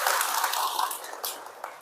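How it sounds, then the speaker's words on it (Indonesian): Brief applause from an audience at a scouting gathering, a bright wash of clapping that is loud at first and then thins out over a couple of seconds. "Tepuk tangan luar biasa ya."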